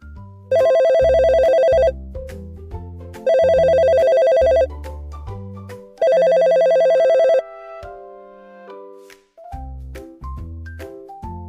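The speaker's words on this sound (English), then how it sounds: "Hatif means phone." Three loud, bright telephone ringtone bursts, each lasting over a second and spaced evenly, sound over a cheerful musical backing with no talking.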